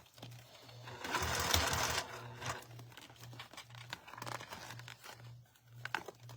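A sewing machine top stitches clear vinyl to a fabric seam, its motor running in short repeated bursts while the stiff vinyl crinkles and crackles as it is guided along.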